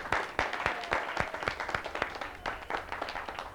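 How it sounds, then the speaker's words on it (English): A studio audience on a game show breaks into a big round of applause, a dense, steady wash of many hands clapping at moderate loudness with no talk over it. "So let's give them a big round of applause."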